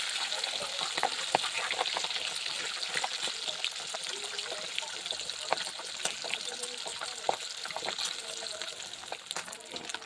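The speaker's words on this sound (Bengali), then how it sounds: "মাছগুলো ভাজা হয়ে গেছে এবার আমি তুলে নেব" Steady, dense sizzling and crackling of fish frying in hot oil, continuous throughout with scattered sharper pops.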